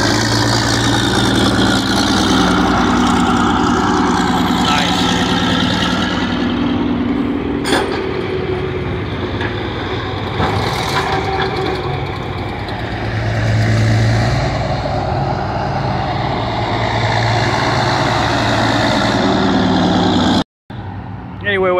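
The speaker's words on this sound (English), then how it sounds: "That sounds really good, that shovel." An old Northwest shovel's engine runs steadily with a deep, rumbling idle throughout, while people talk over it nearby and a brief sharp knock comes midway.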